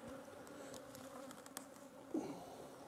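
Honeybees buzz steadily up close while being transferred into mini nucs, a continuous droning hum with a brief louder burst near the end.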